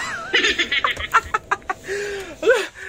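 A chicken being chased clucks and squawks in a rapid run of loud, close calls, with a rising squawk near the end and no talk over it.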